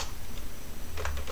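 Keys on a computer keyboard are tapped in a brief, quick run of light clicks while a command is entered, quiet and close with no voices.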